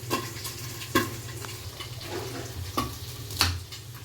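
Pork fat renders in a covered pan while cooking dinuguan, giving a low steady frying hiss with a few sharp pops and clicks, close but quiet, no talk.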